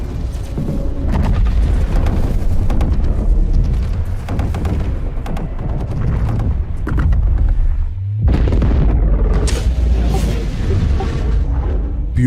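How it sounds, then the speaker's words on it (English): A massive Idris capital ship explodes in Star Citizen with sustained, heavy booming rumbles and bursts for about twelve seconds, loud and dense, briefly dropping out before a second roaring blast surge. "That's going to be the most spectacular type of explosion that I have seen in a game."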